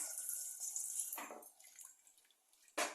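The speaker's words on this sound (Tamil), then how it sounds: "கொஞ்சமாக தண்ணி ஊற்றிக்கலாம்." Water pours in short, soft splashes into a cooking pot while double beans are prepared in a kitchen, one burst around the middle and another near the end.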